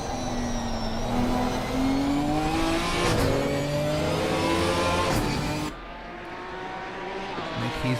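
Race car engine from a racing video game, revving high with rising gear-by-gear pitch sweeps on a downshift, loud and steady throughout before dropping to a lower drone near the end, with commentary voices over it.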